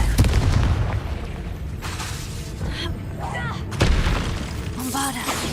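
Confringo spell blasts in Hogwarts Legacy, a game: repeated booming explosions with bursts and crackles in a dense battle mix, strongest at the start and again near the four-second mark.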